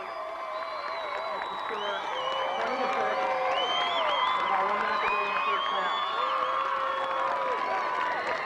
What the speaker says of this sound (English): you can hear the crowd here on the near side for the Julian Eagles